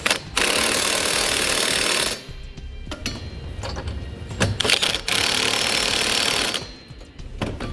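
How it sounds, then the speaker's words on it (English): A tool spinning a 19mm socket to snug Curt trailer hitch hardware on a 2017 Jeep Cherokee, loud steady rattling bursts that stop and start, with quieter clicking gaps between runs. "we're ready to use a 3/4 or 19mm socket. We want to get all of our hardware snug down."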